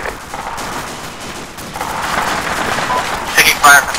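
Gunfire rattles in a tactical shooter, a steady mid-distance crackle under talk, with a couple of louder close bursts near the end.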